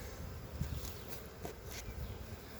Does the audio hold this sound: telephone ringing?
no